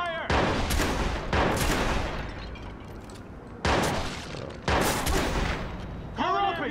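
Gunfire in the Watch Dogs video game comes as several loud, dense bursts of rapid shots with shattering debris, alternating with brief quieter gaps and mixed with game voices.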